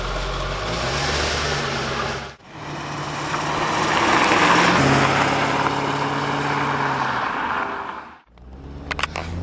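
A Chevrolet Corvette C5 Convertible being driven, its engine producing a steady mid-range drone that swells and shifts in pitch, broken by two brief gear-change dips, with no talk.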